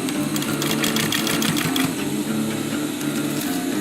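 A sewing machine stitches over a folded edge while sewing a surgical mask. It gives a close, loud, continuous whir with a steady needle rhythm and no voices.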